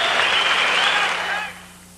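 A 1985 lightweight boxing crowd reacts to Edwin Rosario after the decision with loud clapping and cheering that holds strong, then fades away toward the end.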